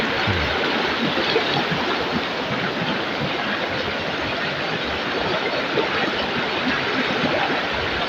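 Creek water flows in a steady, loud, continuous rush close to the microphone, with no pauses or talking.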